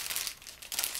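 A freshly opened snack bag crinkles and rustles close up in a steady run of crackling handling noise, with no talk.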